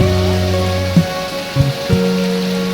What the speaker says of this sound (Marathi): पाऊस जोरातच आला वाटायला आता